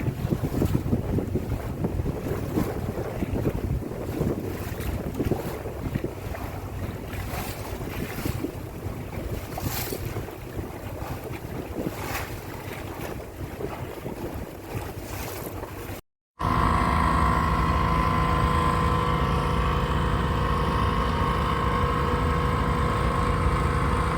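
A houseboat cruising on Vembanad Lake near Alleppey, with steady wind buffeting, water wash and engine hum, then a short cut to a louder, smoother engine drone.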